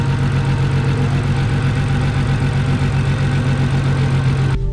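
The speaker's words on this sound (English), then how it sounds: "Yeah, we definitely have a misfire." An Audi S4 engine idles with a misfire, a loud, close, uneven low rumble with a lumpy rhythmic pulse that runs without a break and then cuts off abruptly at the end.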